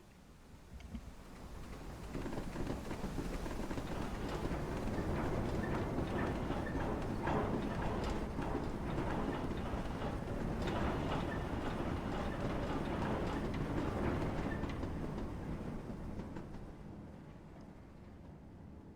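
GC freight wagons roll at 25 mph in Train Simulator 2019, a continuous rumbling run with steady clickety-clack of wheels over rail joints that swells in and then eases off toward the end, with no talk.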